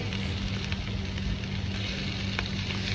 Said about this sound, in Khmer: បន្ទាប់មកទៀតគឺយើងដាក់សាច់ជ្រូកចិញ្ច្រាំចូល